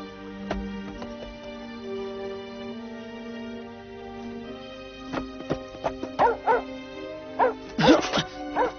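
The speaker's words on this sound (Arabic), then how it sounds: "كلب سندريلا" A cartoon dog yips and barks in an Arabic-dubbed Cinderella animated series, a burst of several short, close barks and whimpers arriving late after a stretch of music and voices.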